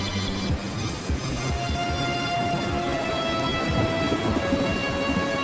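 Steady heavy rain pours throughout a storm, with low rumbling thunder rolling beneath it, dense and loud with no break.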